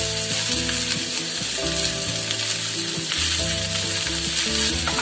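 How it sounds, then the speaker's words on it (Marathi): Onions frying in hot oil in a kadhai for chicken masala, a loud continuous close sizzle with stirring and a steady hum of kitchen noise underneath, no talk. "कांदा चांगला लालसर करून घ्यायचा."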